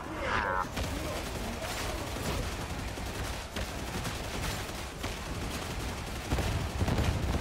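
Rapid, continuous lasgun fire from a Warhammer 40,000 shooter game, a dense barrage of broadband shots with distinct stronger cracks, loud and sustained over several seconds amid other battle noise.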